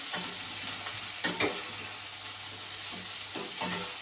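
Cabbage sizzles steadily in a hot steel wok, with a few sharp scraping clinks of a spatula as it's stirred; no voices.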